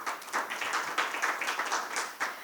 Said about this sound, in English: May we please give him a round of applause again?